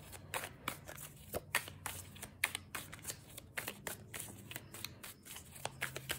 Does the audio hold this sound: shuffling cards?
yes